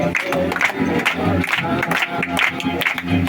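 Loud rhythmic group clapping keeps time with Bengali Christian hymn singing at a rice-feeding ceremony, hands striking in a steady beat under voices singing together.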